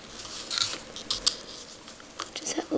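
Scissors snip through card stock in short, crisp bursts at close range during a scrapbooking card project, with a few separate cuts spread across the moment and soft background noise around them.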